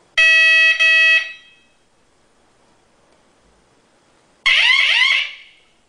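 Electronic bicycle horn sounding a loud, steady alarm tone in two short bursts, then after a silent gap switching to a warbling, police-siren-like sweep for about a second, close and alone.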